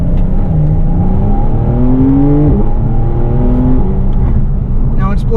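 A Porsche 992 911 Carrera S with turbocharged engine, all-wheel drive and PDK gearbox, heard from inside while driving: loud steady engine drone rising in pitch through gears, with a quick shift partway and speech present.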